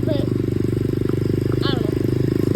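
Dirt bike engine running steadily with the back brake applied, a buzzing motor drone throughout, with voices talking briefly over it.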